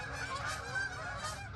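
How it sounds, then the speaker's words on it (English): A flock of Canada geese honks overhead outdoors, a faint, distant chorus of overlapping calls above a soft background rumble. "there's a ton of Canadian geese over my head."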